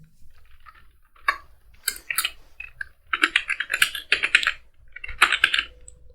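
Computer keyboard being typed on while writing JavaScript code, bursts of quick close key clicks separated by short pauses, alone without voices.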